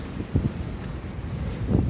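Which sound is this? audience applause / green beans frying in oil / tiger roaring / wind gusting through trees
wind gusting through trees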